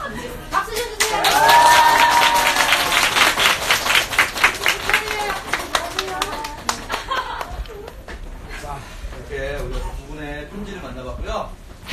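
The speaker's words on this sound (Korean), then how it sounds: "박수 주세요." Clapping and applause from a studio audience at a live broadcast featuring members of a K-pop group, a dense burst of hand claps with some laughter, fading as people start talking and speech takes over.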